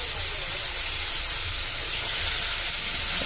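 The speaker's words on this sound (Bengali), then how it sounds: "একটু ভালো করে ভেজে নেব।" Spices (turmeric, coriander powder, cumin powder, chilli powder) frying in hot oil in a pan for dhokar dalna, a steady loud sizzling hiss close up with no talk.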